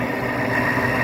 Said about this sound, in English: Compressor on it's kind of noisy, but it's hard to tell with the fan.